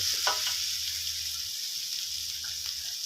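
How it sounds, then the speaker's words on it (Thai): Chili curry paste stir-fried with beans and pork in a pan, a continuous bright sizzle with a few scraping stirs of the utensil, steady and close, no talking. "ผัดให้หอมเลยนะครับ"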